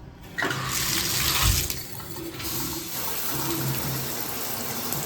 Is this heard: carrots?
no